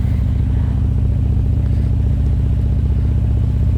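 Harley-Davidson Street Glide Special motorcycle cruising at a steady pace, a loud, continuous low engine rumble with regular firing pulses and road noise, no talk.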